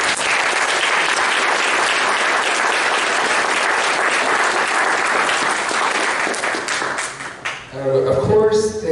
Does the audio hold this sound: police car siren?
no